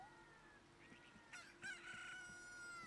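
A bird crows in The Legend of Zelda: Ocarina of Time with a rooster-like cock-a-doodle-doo: one loud, bright, drawn-out call that rises and holds for about a second and a half over soft game ambience.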